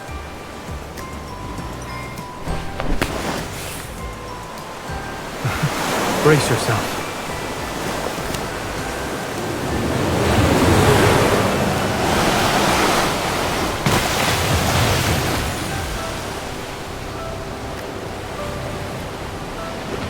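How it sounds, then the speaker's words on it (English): Ocean waves in a Love and Deepspace beach scene, surf swelling and crashing in long washes of noise at mid distance, with a voice speaking briefly over it. "The waves here."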